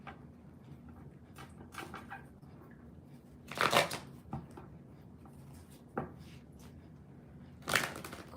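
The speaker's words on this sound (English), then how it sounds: "Let me just do a couple of shuffles." A few quick riffling shuffles of tarot cards, soft bursts of papery flutter separated by pauses, close by and otherwise quiet.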